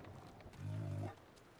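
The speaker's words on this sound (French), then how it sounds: "Ah, il y a un ours." A bear in the Ghost of Tsushima video game lets out a short, low, rumbling growl of about half a second, moderately loud over a faint background.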